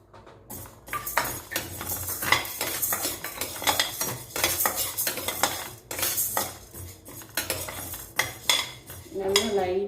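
Urad dal dry roasting in a pan, stirred with a metal spoon that scrapes and clatters continuously and loudly, with a brief sizzle near the end.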